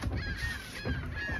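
A flock of geese honks in the background near a fishing boat off Trinidad's north coast, Caribbean, with repeated overlapping calls over steady wind and engine noise.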